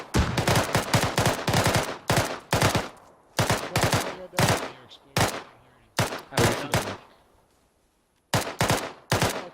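Suppressed weapon gunfire during platoon field training, loud rapid bursts of sharp cracks in quick volleys, separated by short pauses and fading tails, close to the listener.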